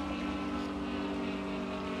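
A steady, droning aircraft engine hums continuously overhead, moderately loud and unchanging, with no voices.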